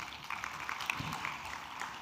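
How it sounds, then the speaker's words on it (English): Applause from the audience at an international dairy industry conference in Africa, a steady patter of clapping held at a fairly even level for about two seconds. "So another round of applause,"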